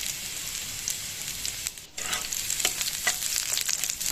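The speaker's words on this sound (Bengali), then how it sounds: "আদা রসুনটাকে একটু লাল করে ভেজে নিতে হবে" Chopped garlic and ginger frying in hot oil in a pan, a steady close sizzle with occasional crackles and stirring scrapes, no talk.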